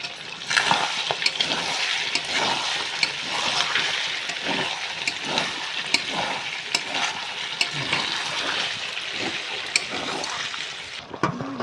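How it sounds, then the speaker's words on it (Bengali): Pre-fried potatoes being stirred into chicken skin in bubbling oil, a continuous close sizzle with repeated scraping and clacking strokes of a spoon against the pan, no talking. "আলুটা দিয়ে এবার একটু নাড়িয়ে নেব।"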